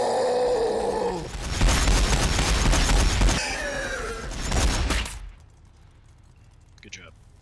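Gunfire in a Warhammer 40,000 battle between Orks and Tyranids: dense, loud bursts of shooting for several seconds, mixed with game voices and groaning sounds, then dropping away to near quiet.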